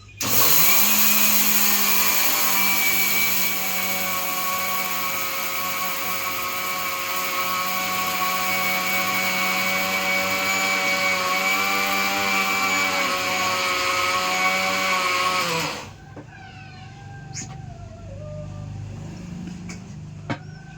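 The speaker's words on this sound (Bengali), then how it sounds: "এই যে আমরা এখন চাল গুঁড়ো করছি" Electric grinder running loud and steady for about fifteen seconds as rice is ground into flour, its motor whine holding a stable pitch, then cutting off abruptly to leave quieter kitchen background noise.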